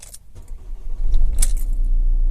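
A Ford Transit Custom van is started with its key: keys jangle close by, then the engine cranks and catches, settling into a steady, fairly loud idle rumble.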